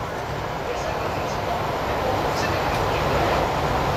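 A Hong Kong MTR East Rail Line SP1900 metro train rumbles steadily, with a broad rolling roar and faint high squeals, like a train slowing into a terminus station.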